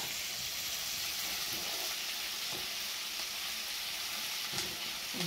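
Onions fry in a pan for a stuffed zucchini karnıyarık, giving a steady, loud, close sizzle that hisses continuously, with faint scraping stirs now and then and no talking.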